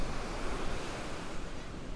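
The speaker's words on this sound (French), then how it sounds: "Les vagues sont énormes" Large ocean waves crashing and surging on a Costa Rica beach, a continuous loud roar of surf with wind buffeting the microphone, no voices.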